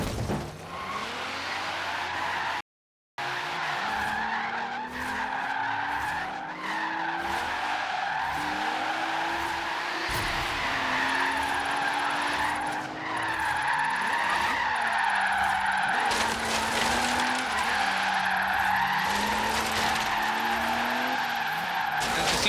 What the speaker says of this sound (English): we're just taking those corners pretty easily there, and it's almost drifting like a rear-wheel drive car, but not quite